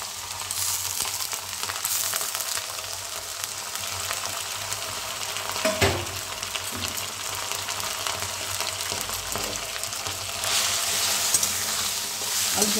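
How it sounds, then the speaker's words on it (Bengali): Potatoes and mixed vegetables fry in a pan for a vegetarian dry sabji, giving a steady close sizzle with occasional stirring scrapes and a brief louder burst near the end, without talk. "আলুটাকে আমি ভাজা ভাজা করে নিচ্ছি"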